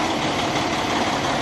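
A semi-truck tractor engine idles at close range during a pre-trip inspection near the exhaust, giving a steady, even rumble that stays loud and unbroken, with no speech.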